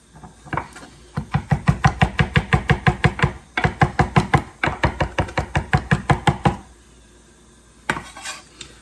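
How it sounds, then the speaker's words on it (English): A knife chops capers and cornichons on a board for tartare sauce, with two long runs of fast, steady, close knocks, then a short gap and a final single hit. "So that's the capers and cornichons chopped"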